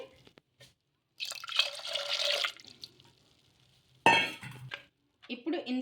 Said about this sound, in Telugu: నీళ్ళు అయితే వేసుకుందాం మునిగే వరకు నీళ్ళు అయితే వేసుకోవాలి